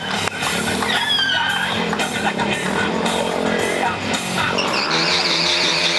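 Factory BMW motorcycle revving hard during a live stunt show, the engine held at high, wavering revs with tire squeal and a loud, continuous roar close by.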